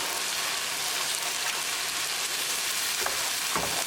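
Spices for malai paneer fry and get stirred in a hot pan: a dense, steady sizzle with faint scraping stir sounds, close and continuous.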